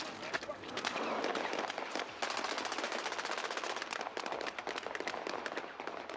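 Dense bursts of rapid gunfire crackle nonstop with sharp explosion blasts mixed in during a film shoot, loud and chaotic, seeming to come from several directions.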